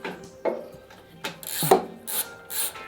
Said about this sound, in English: I'm just going to pull those nuts off.